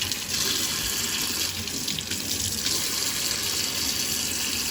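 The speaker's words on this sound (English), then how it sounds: "I'm taking the shrimp from the tail and just run it through the water very fast" Steady running tap water at a kitchen sink as raw shrimp are rinsed quickly under the stream for tempura, a continuous close splashing flow with no talk.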